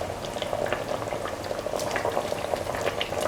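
A carrot, bottle gourd and coconut milk vegetable stew simmers in a pot, bubbling steadily with a dense, continuous burble and small pops, close and alone.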